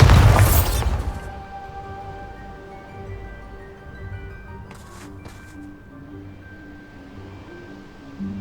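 The Bombarda blasting spell explodes in the Hogwarts Legacy video game: a loud, deep boom at the start that quickly fades into a rumbling tail under soft ambient game music.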